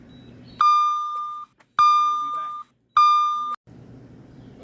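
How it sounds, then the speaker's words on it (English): Three loud, steady electronic beeps from a digital temperature gauge alarm at a Weber kettle grill cook, each lasting under a second and evenly spaced, with quiet outdoor background between them. "Turn the alarm off on my temperature gauges."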